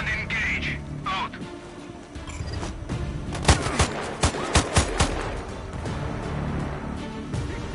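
Gunfire in the video game Sniper Ghost Warrior 2: a burst of close, sharp shots cracking in quick succession, five or six loud reports over a low rumbling battlefield ambience.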